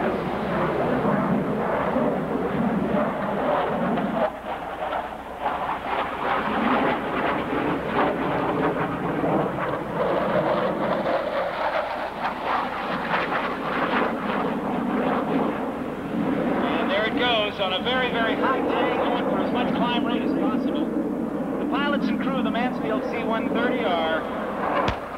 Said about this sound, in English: Watch now the C-130 in the short field takeoff.